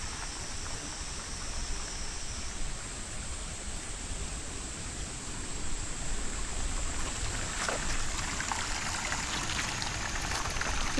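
A mountain stream on the Jinmianshan hiking trail in Taiwan, water rushing and splashing in a steady broad wash that stays close and even, swelling slightly partway through.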